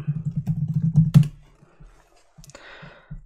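Rapid run of computer keyboard keystrokes typing a search query, close and crisp, then a pause and a few scattered key taps.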